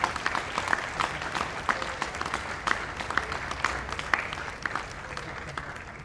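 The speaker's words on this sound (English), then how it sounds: "Give them a round of applause." Audience applause after the Thanksgiving turkey pardon, scattered clapping heard fairly faint and distant, steady for several seconds, with some speech faintly underneath.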